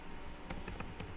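Light keystrokes tap on a computer keyboard as the word PowerShell is typed, a quick run of soft, close clicks over faint background hiss.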